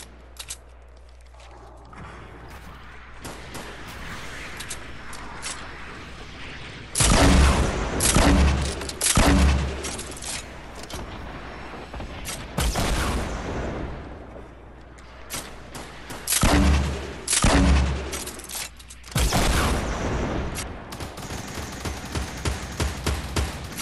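Gunfire and rocket blasts in the Fortnite Battle Royale video game come in loud bursts of rapid shots and booms, separated by quieter stretches of background game noise.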